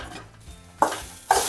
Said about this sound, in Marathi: यामध्ये हिरव्या मिरच्या टाकणार आहे आणि 4-5 लसूण कळ्या टाकणार आहे